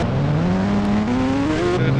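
Engine note of a motorcycle ridden in the Indian Bike driving video game, a steady synthetic drone whose pitch climbs gradually as it accelerates, then drops and settles, loud and continuous throughout.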